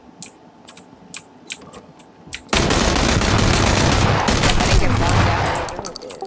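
Gunfire in the video game PlayerUnknown's Battlegrounds opens with faint clicks and keyboard typing, then breaks into a loud, sustained machine-gun fusillade for several seconds before tapering off.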